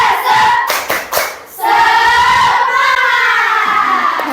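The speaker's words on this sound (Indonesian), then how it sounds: "coba tepuk semangat baru" Children in a classroom perform the 'tepuk semangat' clapping chant, with sharp rhythmic claps at the start, then loud sustained shouted voices chanting together.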